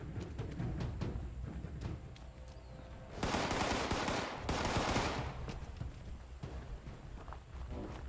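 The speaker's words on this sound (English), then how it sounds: "I've got a gun that melts people sometimes." Gunfire from a weapon that melts people in Fallout 76 Wastelanders, heard as rapid broadband bursts with two long loud volleys in the middle, over footsteps and game ambience.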